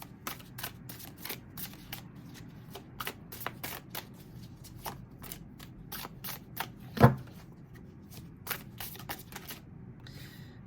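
A heavy, dense deck of tarot cards is shuffled in quick, crisp bursts of riffling and flicking, close up and with no talking, with one sharper knock midway.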